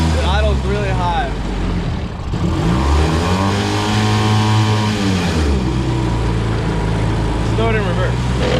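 A Honda outboard motor runs steadily at a high idle, its loud, continuous engine drone rising and falling slightly in pitch, with voices talking over it at the start and end.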